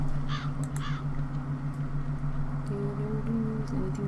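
Harsh crow caws ring out in a horror video game, a pair of quick calls at the start over a constant low droning ambience, with a faint tonal sound toward the end.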